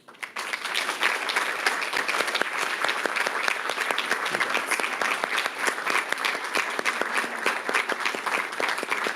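Sustained, dense applause fills a school district meeting room as the audience honors retiring staff, continuous and fairly loud throughout.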